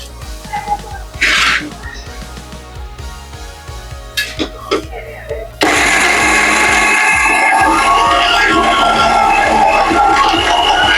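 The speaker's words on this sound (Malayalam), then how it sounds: "ഇനി നമുക്കതൊന്ന് പൊടിച്ചെടുക്കാം. ജാറിലേക്ക് ഇട്ട്" Roasted coconut spice mix being ground in a mixer grinder jar. A few bumps and rattles give way to a loud, continuous motor whir that runs steadily to the end.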